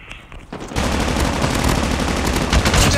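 Rapid automatic gunfire from the mobile shooter game Call of Duty Mobile bursts in after a brief quiet start and continues loud and dense to the end, with no talking.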